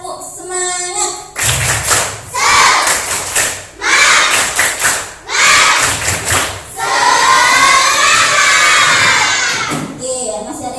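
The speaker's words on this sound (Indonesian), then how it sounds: "Gimana kalau kita tepuk semangat dulu?" A classroom of children claps a rhythmic spirit chant together, loud bursts of unison clapping mixed with shouted chanting voices, ending in a long sustained group cheer, close and energetic.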